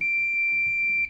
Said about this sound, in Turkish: Şimdi buzzer'ımızı da bağladık mı tamamdır arkadaşlar.